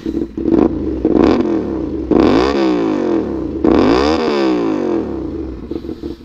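A 450SR/SS motorcycle revs hard and close up, with three strong throttle blips that rise and fall in a rhythmic vroom, the engine idling and clattering between them.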